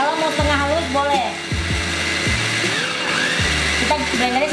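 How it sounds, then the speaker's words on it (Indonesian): A kitchen blender grinds a spice paste loosened with oil and water, a loud steady whir that repeatedly dips and surges in pitch as the motor labors and frees up, close to the mic. "kita blender sebentar aja setengah halus"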